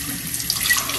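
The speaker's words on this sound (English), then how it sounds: "see me changing out the fish tank water." Tap water pours continuously and loudly at close range while a fish tank's water is being changed, a steady hissing splash with no talk.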